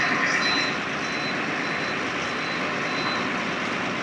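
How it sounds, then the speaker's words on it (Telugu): Heavy road traffic with sand lorries on a rural highway between Jangareddygudem and Rajahmundry, heard as a steady, loud, broadband engine roar with no breaks, while a bus carrying the listener drives alongside. "ఫుల్ ట్రాఫిక్ ఈ ఇసుక లారీలు ఉంటాయి కదా వాటితో"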